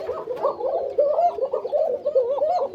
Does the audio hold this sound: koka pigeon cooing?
yes